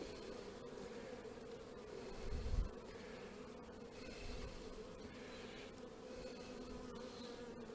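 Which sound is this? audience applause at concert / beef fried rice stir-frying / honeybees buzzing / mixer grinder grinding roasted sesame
honeybees buzzing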